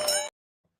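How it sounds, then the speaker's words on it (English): A bright metallic bell dings once, loud and close, then cuts off abruptly into silence. "Ring the bell."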